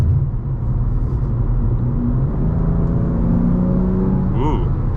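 BMW G87 M2 running an M2CS tune accelerating, its engine rumbling and rising in revs over several seconds, loud and close, with a brief chirp near the end.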